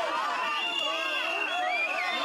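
Over two thousand protesters mass outside the parliament building, ringed by heavy police presence, a dense continuous roar of many overlapping shouting voices and chatter at steady loudness.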